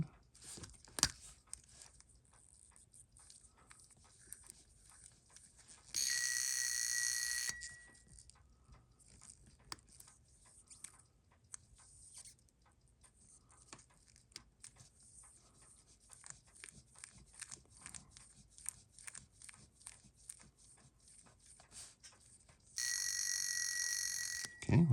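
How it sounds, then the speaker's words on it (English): Alarm of a Seiko 4006-7000 Bell-matic wristwatch buzzing in two short bright bursts, about a second each, far apart, with faint handling ticks and clicks between them. "Okay, well, the alarm works."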